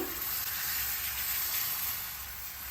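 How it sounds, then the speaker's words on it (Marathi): A well-heated iron tawa, ready for mixed-dal amboli batter, gives off a steady, close, even sizzling hiss that fades slightly toward the end, with no voices. "पाणी घातल्यावर चांगला चुरचुर आवाज आलेला आहे तवा चांगला तापलेला आहे"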